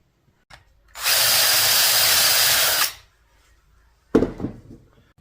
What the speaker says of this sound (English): we're just going to drill down through the back side of that hole